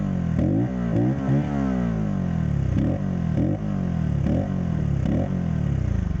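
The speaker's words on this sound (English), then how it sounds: "Listen to this exhaust." A Voge 125R motorcycle's exhaust blips through a series of sharp revs, each rising and falling quickly, close and loud over a steady idle, with no one speaking.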